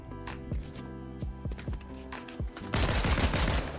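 Rapid gunfire in the Fortnite video game, a pistol among it: a string of sharp close shots in an uneven rhythm over steady game sound, thickening into a dense loud burst near the end.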